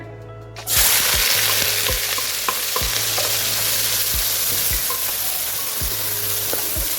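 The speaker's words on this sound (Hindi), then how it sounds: "हम इसे प्याज को मुसलसल 5 मिनट के लिए फ्राई करेंगे।" Onions fry in hot oil in a kadai, a loud, steady sizzle that bursts in after a brief quieter moment, with occasional spoon scrapes and clicks underneath.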